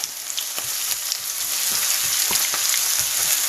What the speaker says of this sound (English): Just sizzle this for a couple of minutes